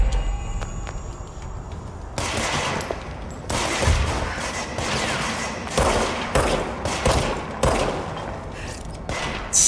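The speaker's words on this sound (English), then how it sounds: "Oh, there's people shooting at me." Enemies fire guns at the player in the action game Control, loud bursts of automatic gunfire in repeated volleys that start after a quieter opening and keep going, some shots sharp and close.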